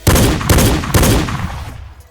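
Three rapid gunshots from a Roblox FE Gun Kit weapon in a video game, loud and booming, each followed by a short decaying tail.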